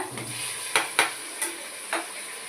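Tomato, coriander and mint sizzle in a pan for prawn biryani, a steady close frying hiss broken by four or five sharp scraping stirs of a utensil.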